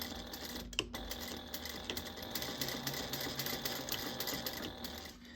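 A sewing machine runs steadily while stitching a cut-and-sew bag, a continuous close whirring with a quick knock near the start and no talking.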